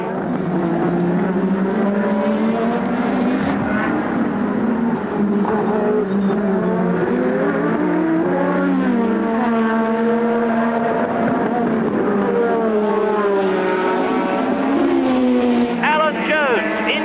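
Formula 1 race cars scream past at the 1986 Hungarian Grand Prix, their engines rising and falling in pitch as they pass close by, with a commentator talking over the engine noise the whole time.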